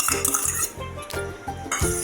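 A spoon clinks against a bowl while sour curd is stirred into warm milk, giving quick, bright, repeated metallic taps in an uneven rhythm, up close and with no talk.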